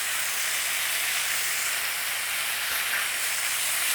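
Butter melts into a hot pan beside a searing steak, making a loud, continuous hiss and sizzle that holds steady throughout with no voices.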